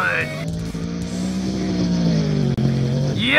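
Bigfoot monster truck engine in a Monster Jam Steel Titans video game freestyle backflip event, a loud steady growling rev that holds throughout, briefly dipping near the end, with a commentator's voice running over it.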